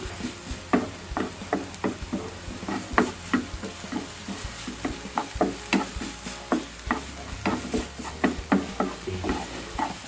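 Onion being stir-fried in a pan for a burger filling: a constant sizzle with rhythmic scraping and knocking strokes of a spatula against the pan, close and fairly loud, with no talking.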